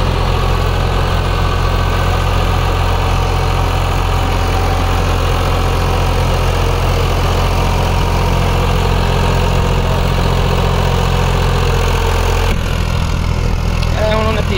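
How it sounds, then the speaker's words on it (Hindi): A Fiat 480 tractor runs steadily under load while driving a 66 cutter rotavator in a field, its loud, continuous low engine drone close up throughout, with no pauses. "ट्रैक्टर"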